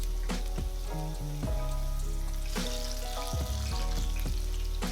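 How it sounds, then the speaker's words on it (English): Tempura-battered mushrooms and green beans deep frying in hot oil, a steady close crackling sizzle running unbroken throughout, with bursts of bubbling and faint utensil clinks. "fry these until the batter is crisp and the beans are vibrant green"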